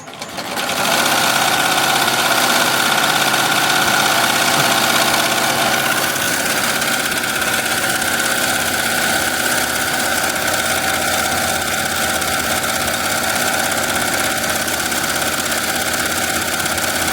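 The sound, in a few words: embroidery machine stitching a jacket at 1000 stitches per minute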